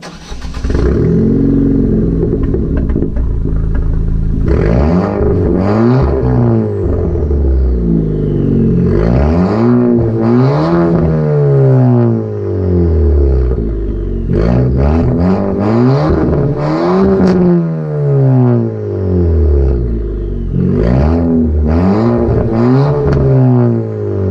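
A Ford Fiesta ST's 1.6-liter engine revs repeatedly, rising and falling in loud, rumbling pitch sweeps from the exhaust, close and aggressive throughout.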